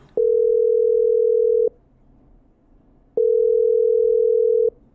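Telephone dial tone in the game Killer Frequency while calling a caller back: two long, steady, loud tones of about one and a half seconds each, separated by a gap of silence.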